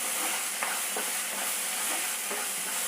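Chopped raw plantain sautés over low heat in a pan, giving a steady, close sizzle with light stirring scrapes at intervals, and no voices.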